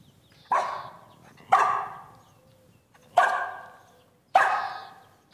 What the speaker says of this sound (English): Okay, here is bark two.